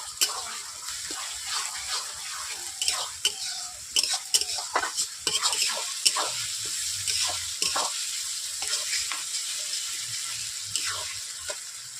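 Garlic and ginger paste sizzles and fries in a pan for a country chicken curry while a spoon stirs and scrapes repeatedly, sharp clinks and scrapes landing over a steady hiss, close up with no talk.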